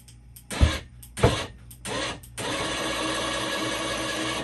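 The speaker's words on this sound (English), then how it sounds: "I'm just going to hold the linear actuator and draw it in a little bit" A bed-lifting linear actuator, driven by remote, draws in with a steady electric motor hum that starts after a few sharp knocks and handling noises, then runs evenly and fairly loud to the end.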